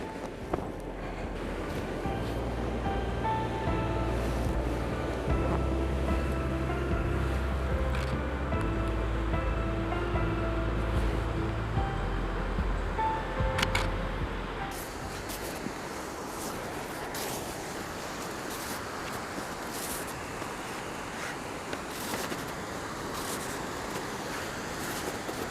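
A roaring waterfall throwing heavy spray in cold conditions, a broad continuous rush of water with wind buffeting the microphone, steady and fairly close with no talking over it.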